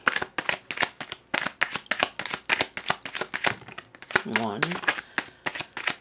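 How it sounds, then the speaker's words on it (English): Tarot cards being shuffled at close range, a rapid run of crisp papery riffles and slaps in quick bursts, with a voice speaking briefly over them. "Now, we are going to shuffle, get 3 cards out for"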